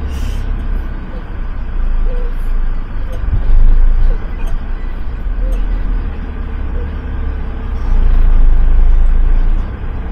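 A vehicle drives fast over Sahara desert dunes, its loud, close engine and tyre roar rising and falling in two big surges as it climbs and drops over the crests, with a voice talking over it.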